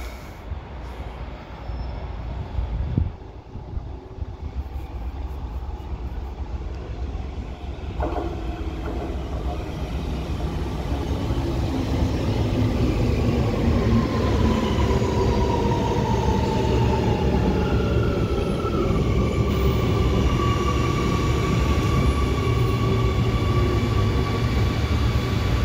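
An Amsterdam GVB metro train, a CAF S3/M4 unit, approaches the station, its rumble building steadily over the whole stretch with rising electric motor whine and brake tones as it draws near and slows.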